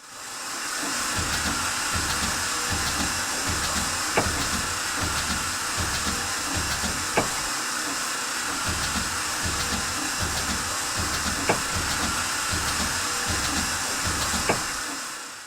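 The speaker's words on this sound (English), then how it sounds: "A repetitive ratcheting noise when you move the reverser," Reverser lever on the Swamp Rat locomotive in Train Simulator's Clear Creek Log & Lumber pack, giving a steady, repetitive ratcheting that runs the whole time over a constant hiss of steam.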